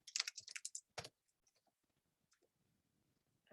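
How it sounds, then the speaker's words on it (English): Quick, clustered keystrokes on a computer keyboard, close and clear, a burst of rapid clicks followed by a few scattered taps and near silence. "And I just start typing."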